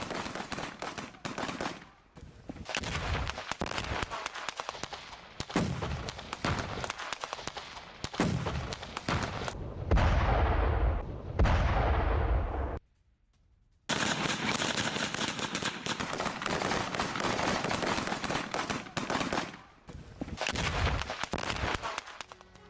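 Gunfire from Luhansk-backed (LPR) soldiers advancing while firing on Ukrainian troops in war footage: dense, loud bursts of machine-gun and rifle shots with heavy low booms, continuing almost throughout with one brief silent gap.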